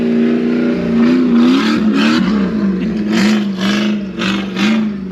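A Jeep engine revs hard, droning loud and close with a pitch that rises and falls, as the vehicle launches its front end off a dirt ramp in what seems to be a video game.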